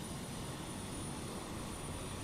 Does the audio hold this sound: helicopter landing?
yes